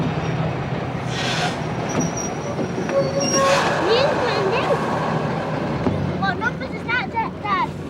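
Train running on the St Ives branch line in Cornwall, a rolling rumble of wheels on rails with repeated high wheel squeals through curves, passing at moderate distance with voices and chatter mixed in.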